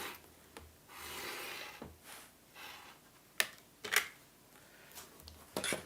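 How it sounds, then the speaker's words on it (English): A rotary cutter slices a fabric strip for an Arctic Peaks quilt, a soft close scraping rub across the mat, followed by faint taps and clicks of the ruler being handled. "And you cut your strip."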